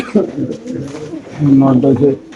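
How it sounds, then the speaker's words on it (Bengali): White racer pigeons in cages at a pigeon farm coo softly in short low bursts, close by and mixed in with someone talking over them. "একজোড়া রেসার কবুতর মাসাল আপনি দেখতে পাচ্ছেন খুব সুন্দর হোয়াইট রেসার"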